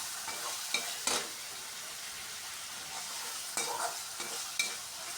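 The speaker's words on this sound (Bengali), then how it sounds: "এবার টমেটোটাকে ভালো করে কষিয়ে নিচ্ছি।" Tomatoes with salt fry and get stirred in a pan: a soft, steady sizzle with sharp scraping strokes of the spoon at intervals, close and fairly quiet.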